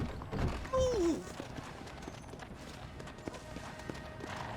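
Horse hooves clip-clop at a steady walking rhythm in Red Dead Redemption, fairly soft, with a brief sliding vocal-like sound near the start.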